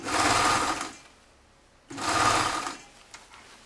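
A sewing machine stitches around the edge of a lined toque in two short bursts of fast, buzzing whir, close and loud, separated by a pause.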